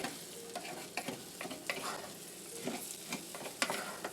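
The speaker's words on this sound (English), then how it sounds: "Stir this, mix this well, okay?" A spoon stirs rice pilaf frying in a pan over the heat, giving repeated scraping strokes over a steady soft sizzle, close and moderately loud, with no talking.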